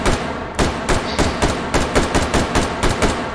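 Repeated firearm shots in the VR shooting game H3VR, about a dozen sharp, loud, close reports in an uneven rapid rhythm, alone without talk.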